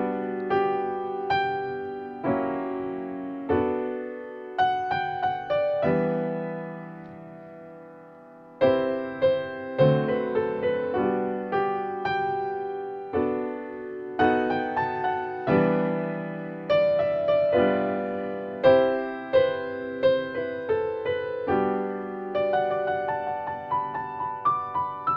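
The Office theme reharmonized on piano, with dominant seventh chords slipped in before various chords, played as a steady sequence of sustained, ringing chords with a short pause near the middle, no voices.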